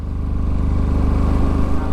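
A scooter engine drones loud and close with a steady low putter and rough vibration, heard from on board during a ride near Kondapalli Fort outside Vijayawada.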